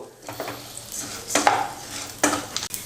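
Basmati rice and cashews being stir-fried in a pan, a spoon scraping and rattling against metal in a few distinct strokes over a faint sizzle, close by with no voices.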